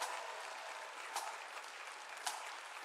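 Steady audience applause at a concert honoring two school pipe bands, fairly faint and distant, with a couple of brief louder claps standing out.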